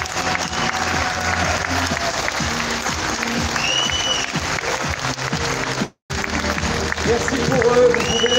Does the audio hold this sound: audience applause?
yes